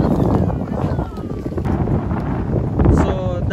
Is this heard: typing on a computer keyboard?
no